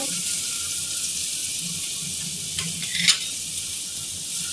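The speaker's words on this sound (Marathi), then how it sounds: "तेल गरम झाले। आता हांव हितून 2 मीडियम साइज कांदा हे बारीक कट करून घेतले ते घालून घेतली असा" Two medium onions, finely chopped, frying in hot oil for a Karwar-style clam dish, giving a continuous, even sizzle close by with a brief louder crackle near the end.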